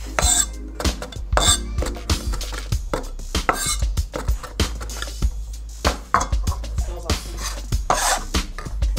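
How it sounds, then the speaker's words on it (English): Rough chopping of fresh sage with a kitchen knife on a board, a steady run of sharp, close knocks and blade taps repeating throughout, with no talking. "About, let's think, 1/4 cup of fresh sage. And just rough chop through with your knife."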